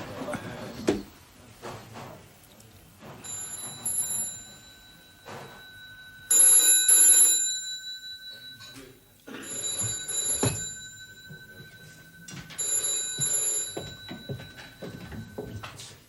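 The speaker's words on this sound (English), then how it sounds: "Phone." Telephone bell on a British police drama set, ringing in repeated bursts of double rings, moderately loud, with people talking between and over the rings.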